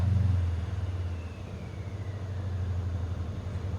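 A 2013 Mercedes S550 with a 5.5L V8 and muffler delete idles with a deep, steady low rumble and a slight pulsing throb, heard close and alone.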